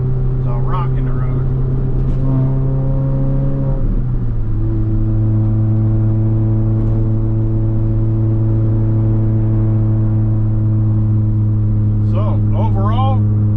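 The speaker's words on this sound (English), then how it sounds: "Let's see what it does when we try to rev match to go into 3rd." The engine of an R53 Mini drones loudly from inside the cabin and its pitch steps down during a rev-matched downshift, then holds a steady hum. Faint voices come through near the start and end.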